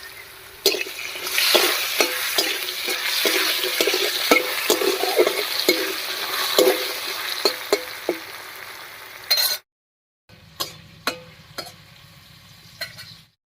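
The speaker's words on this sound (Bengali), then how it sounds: "এবার স্বাদ মতো লবণ আর একটুখানি হলুদ দিয়ে আলুটাকে বেশ লাল লাল করে ভেজে নেব" Potatoes frying in a pan with salt and turmeric sizzle steadily while a spatula stirs with repeated scraping clicks; after a brief silence, a few sparse, close clinks follow over a softer sizzle.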